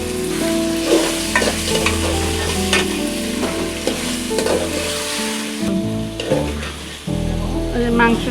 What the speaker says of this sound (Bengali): মাংসটা দিয়ে দেখেন কষাইতেছি ভালো করে, আপনারা এভাবে কষাবেন।